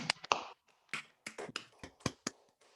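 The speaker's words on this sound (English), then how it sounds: "if we could just unmute ourselves and give you a round of applause" A few online meeting participants clap sparsely after unmuting, giving scattered, uneven claps and taps close to their microphones with gaps of silence between them.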